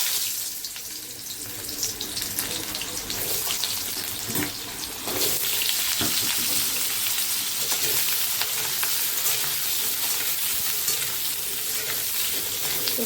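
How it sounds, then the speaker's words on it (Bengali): Potato and pointed gourd fry in a pan with a continuous loud hiss and sizzle, broken by occasional clinks and scrapes of stirring. "এখন আলু পটলটা ভাজা বসিয়ে দিই।"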